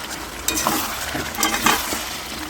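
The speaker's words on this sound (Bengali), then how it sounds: "এদিকে মাংসটা আমি কষাচ্ছি" Meat sautés in a pan with a close, continuous sizzle and a few short stirring scrapes and clinks.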